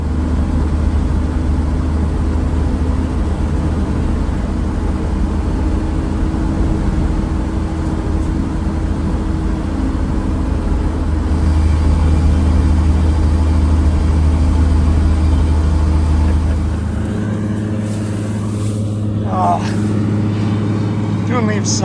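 An old Ford F100 pickup towing a trailer loaded with leaves drives along, its engine droning steadily and loudly throughout, with a brief rattle and shift in tone near the end.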